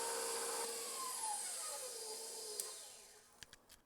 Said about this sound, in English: I'm just going to keep whipping that into a pudding-like mixture